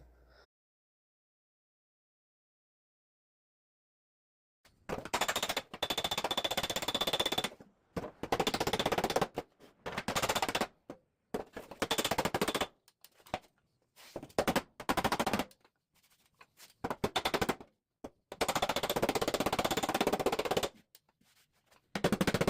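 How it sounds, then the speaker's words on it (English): Loud, rapid metallic hammer-and-dolly blows on thin sheet metal in bursts, ringing sharply, with short pauses between volleys; no voices. "Once I get done hammering this all smooth"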